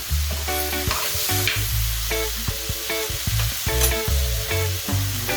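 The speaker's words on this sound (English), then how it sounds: "the tomatoes are cooking now" Tomatoes cook in a pan with a loud, steady sizzle and frying crackle, broken by repeated scraping and stirring knocks of a utensil against the pan throughout.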